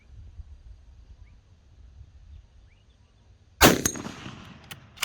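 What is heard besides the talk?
gunshots from CZ 527 .223 carbine rifle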